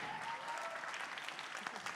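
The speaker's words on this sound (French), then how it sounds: "On applaudit." Dense, steady applause from an audience at a tattoo expo award ceremony, many hands clapping continuously for the whole stretch with no talking above it.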